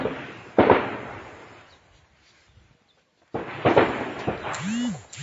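Gunfire and artillery shelling in a Thai attack on Cambodian territory. Two sharp blasts land a few seconds apart between near voices that talk excitedly, with a quiet lull between them.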